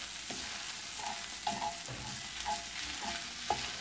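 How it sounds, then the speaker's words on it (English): Salmon fried rice is stirred and scraped in a hot pan. A utensil clicks and scrapes in repeated strokes about every half second over a soft, continuous sizzle, close but quiet, with no one talking. "Just mix all this together"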